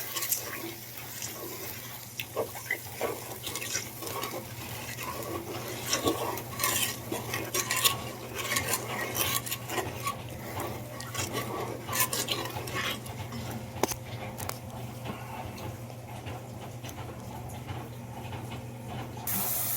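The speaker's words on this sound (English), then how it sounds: "Next thing going in, brown sugar. Gonna start stirring that together." A spoon stirs brown sugar steadily into a pan sauce for teriyaki pork, scraping and clinking against the pan for a long continuous stretch, up close, with a faint sizzle underneath and no talking.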